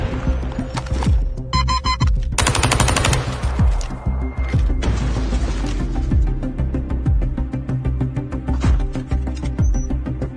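Sustained automatic gunfire from a shooter video game rattles loud and close in rapid bursts, with dense repeated shots and mechanical clatter running almost without pause, with no talk.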